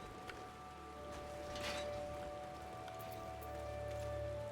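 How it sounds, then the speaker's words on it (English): Steady rain falling in Final Fantasy 14, a soft constant patter of drops on surfaces, fairly quiet and continuous, with no talk over it. "Rainy here, though."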